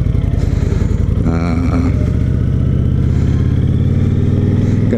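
A Honda VTX1300R motorcycle rides along, its engine a loud, close, steady drone with a brief rise in revs partway through.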